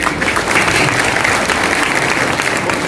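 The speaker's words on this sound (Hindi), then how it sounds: "एक बार जोरदार तालियां बजाएं सर।" An audience at a business meeting breaks into loud, dense, sustained applause that holds steady from start to finish.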